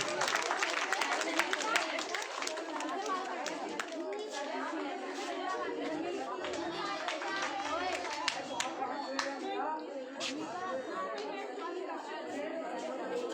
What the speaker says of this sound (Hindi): ताली तो कम से कम बजाते जाओ।